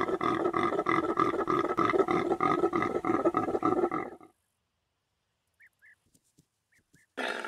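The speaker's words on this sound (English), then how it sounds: "with this being the Impala rutting sound" Impala rutting call from a male impala in a Roblox game: a loud, sustained roaring bellow for about four seconds, then near silence with a few faint chirps before a loud burst returns at the end.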